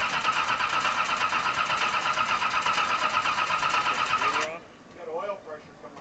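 Canadian Heroes car engine cranking for the first time after sitting dry, with a loud steady starter whir for about four seconds that cuts off, followed by quieter shuffling sounds and voices.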